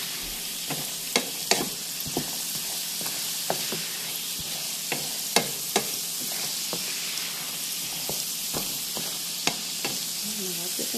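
Potatoes fry in plenty of bacon oil in a pan with a constant bright sizzle, broken by sharp clicks and scrapes from a utensil stirring them close by.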